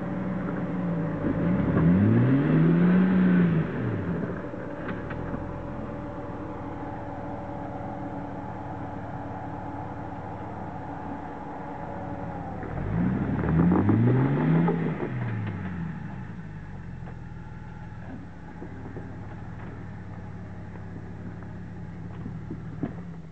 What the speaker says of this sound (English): Bring your driver's side tire right up in this the small gully.